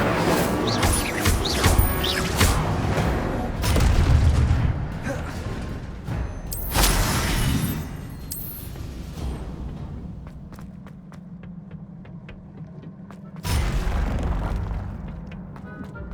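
Incendio fire spells are cast in Hogwarts Legacy, each landing as a loud whooshing burst with crashing impacts, heard amid other combat effects and game noise.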